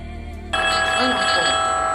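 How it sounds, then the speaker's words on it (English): A telephone ringing loudly and continuously, starting abruptly with a steady electronic bell tone that rings on without pause, close by. "You got a phone call, man."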